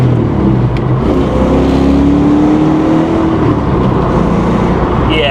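A stock Foxbody Mustang runs steadily while driving, its engine a loud, close, continuous rumble with a slight rise in pitch partway through, heard from inside the car without talking.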